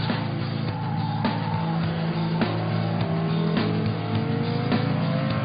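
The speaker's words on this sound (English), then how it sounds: "Masses of wheel spin off the line down to the first corner." A Porsche Carrera GT with its V10 engine launches off the line with heavy wheel spin, a loud, sustained engine roar with rising pitch and tyre noise dominating throughout.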